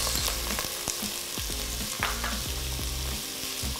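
Chopped onions, peppers, red Fresno chilies and garlic sizzle steadily in olive oil in a pan, with a constant bright crackle and a few utensil scrapes and stirs, close up and with no talking.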